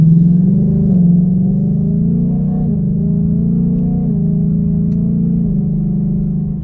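A 2019 Ford Mustang with a 10R80 automatic transmission accelerates under moderate throttle toward 45 mph, its steady low engine drone rising slightly and dipping as it shifts into fifth gear, heard from inside the car.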